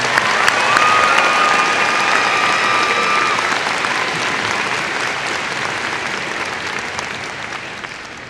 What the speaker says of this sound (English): Can we have one more round of applause for our musical talent today?